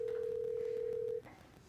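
A telephone line hums with a steady, loud dial tone for just over a second before it cuts off, leaving a quiet open line, as a call is placed to reach someone.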